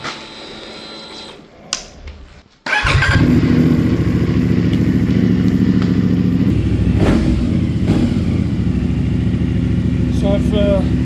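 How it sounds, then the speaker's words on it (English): A CFMoto MT450 motorcycle engine starts, then settles into a loud, steady, close idle that runs unbroken to the end, with a voice speaking briefly over it. "now I'm gonna start the motorcycle and leave it on for"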